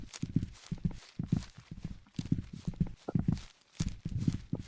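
Horse hooves in a video game, a quiet, rhythmic clip-clop of repeated paired hoofbeats at a steady trotting pace, fairly faint and unaccompanied.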